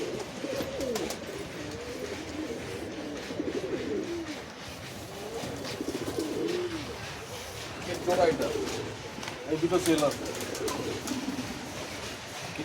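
A Teddy-type Giribaj pigeon at a pigeon sale coos in repeated low burbling phrases, close by, with people talking over much of the stretch and a busy background.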